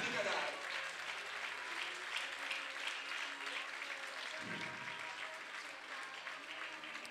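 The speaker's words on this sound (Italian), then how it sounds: "Abdikadar va a prendersi il meritatissimo applauso da parte del pubblico dello stadio Colbachini" A stadium crowd at the Colbachini stadium in Padova applauds an athlete at an athletics meeting, with steady, distant-sounding clapping that fills the whole stretch and continues under talk.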